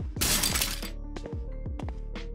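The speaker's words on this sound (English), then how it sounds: "The loud crashing of the window is replaced with the faint sound of cracking glass" Window glass cracks and shatters in a horror game remake: a bright burst of breaking glass up front, then several sharp, separate cracks and clinks trailing off against a quiet background.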